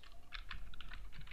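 Rapid keystrokes on a computer keyboard while entering footer text in a PDF editor, a quick irregular run of close, crisp clicks over a faint steady hum.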